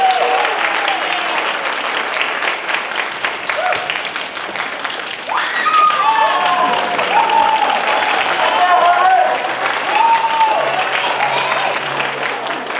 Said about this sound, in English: Students, can we give your parents and families a round of applause for all their support and help?